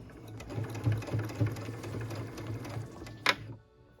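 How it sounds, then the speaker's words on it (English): A sewing machine stitches a pieced, quilted stocking with a close, rhythmic mechanical chatter, then stops abruptly with a sharp click near the end. "Make sure your stocking is laying flat on the bottom side, and then continue to stitch."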